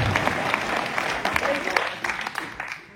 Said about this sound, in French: Et on peut applaudir la circonscription.